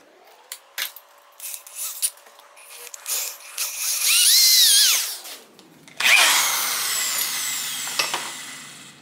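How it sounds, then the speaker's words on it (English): Power drill boring out a bolt hole on a 1978 Kawasaki KZ1000 Z1R motorcycle during restoration, heard in several short bursts, then a long rising whine and a sustained grinding run, close and loud with no talk. "So I drilled it out as much as I dare."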